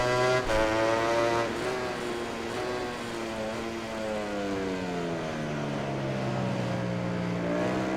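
A racing motorcycle engine in MotoGP 19 holds a continuous high-revving drone that sweeps its pitch up and down, strained and loud, with no talk over it.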